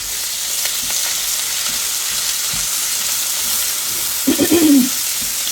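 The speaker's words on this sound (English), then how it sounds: "We're going to let these saute a little bit so they get a little translucent." Green bell pepper and onion sautéing in a pan for hamburger steak gravy, giving a steady close sizzle throughout, with a short tonal hum near the end.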